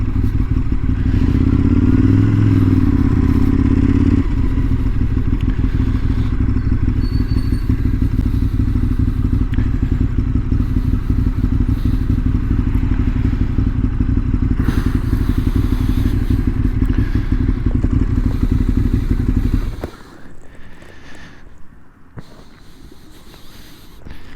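A stock Ducati 848 sport bike rumbles loudly and steadily at close range as it rolls along and slows to pull over, with thumps and clatter over the engine note before it cuts off near the end, leaving faint ambient noise.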